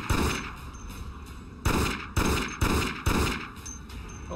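Rapid gunfire in the video game Dead Effect: a string of sharp, punchy shots, first softer and then four louder bursts in quick succession over a steady background hum, with no talking.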